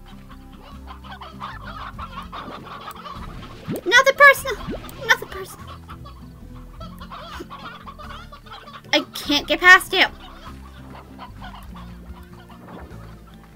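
Video game chickens in Slime Rancher cluck in two short, loud bursts over a quiet background, while a person talks softly in between.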